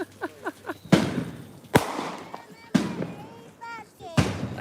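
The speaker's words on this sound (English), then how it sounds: "You just can't light fireworks willy-nilly like this with, no government supervision" Fireworks explode on a street in El Salvador on Christmas Eve, four sharp loud bangs spaced about a second apart, each followed by crackling decay, while someone talks between the blasts.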